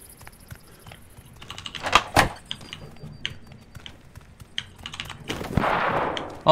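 Gunfire in the Cuisine Royale battle-royale game: two sharp, loud cracks in quick succession, then scattered fainter shots and clatter, ending in a swelling rush of noise.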